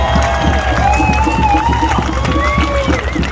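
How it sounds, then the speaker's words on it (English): Crowd at a rally in Perth clapping and cheering, a dense, loud patter of applause sustained throughout with a few raised voices mixed in. "give her a huge round of applause"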